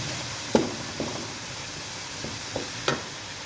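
Masala and spices, with yogurt, fry in a pan as a steady soft sizzle and hiss, broken by a few scattered clicks and scrapes of stirring.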